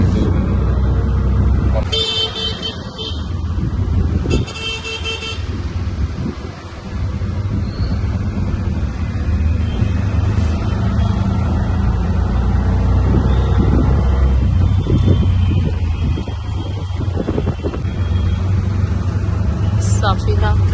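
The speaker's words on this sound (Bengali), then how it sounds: "কমার্শিয়াল স্ট্রিটের জন্য এত গাড়ি লেগে যাচ্ছে" Dense street traffic on Commercial Street in Bangalore during rain, with a steady rumble of engines and wind, and a few short car horn toots cutting through early on; a voice talks over the noise.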